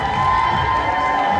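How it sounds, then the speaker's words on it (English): Brief burst of crowd cheering and whooping at the Miss Ghana UK 2018 pageant, loud and close, with a sustained musical tone underneath and clapping barely distinct. "Give her a round of applause, please."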